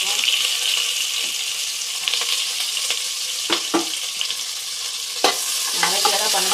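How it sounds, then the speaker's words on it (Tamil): Cloves frying in hot oil in a pan for chicken biryani give a constant bright sizzle, close and steady, broken by a few sharp scraping stirs. "எண்ணெய் காயிட்டும் லவங்க போட்டுக்கலாம்."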